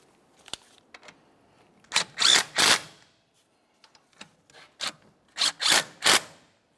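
Torque wrench tightening caliper bracket bolts on a 2001-2005 Ford Explorer Sport Trac, heard as scattered bursts of ratcheting clicks and rasping strokes with short pauses between them, close and fairly loud.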